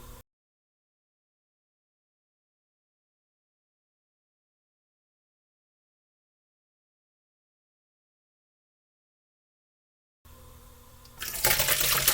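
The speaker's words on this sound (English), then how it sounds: "I'm pouring it through the colander into my Dutch oven." Pickle brine pours through a colander into a Dutch oven, a steady splashing rush of liquid that starts abruptly after a long silence and grows louder near the end.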